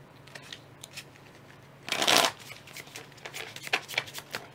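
A deck of cards for the board game 1960: The Making of the President is shuffled by hand, with one loud riffle in the middle and lighter flicks and taps before and after, close and clear.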